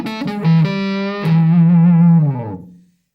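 Electric guitar played with heavy vibrato through a distorted, effects-laden amp for a warm 1960s woman tone: a few plucked notes, then a long sustained wavering note that fades out, loud and alone.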